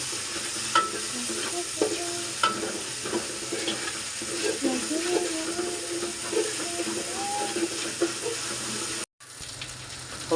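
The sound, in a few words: garlic paste frying in a pan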